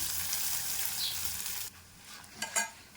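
Dried red chillies and garlic frying in hot oil, a strong steady sizzle for the first half that drops away, followed by a few sharp stirring scrapes and clatters in the pan, close and without talk.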